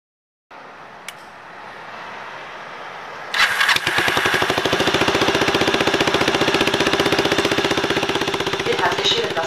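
Vintage Kawasaki 250TR off-road motorcycle engine, custom built, fires up after a few seconds of low hum, then idles close and loud with a steady rapid single-cylinder putter.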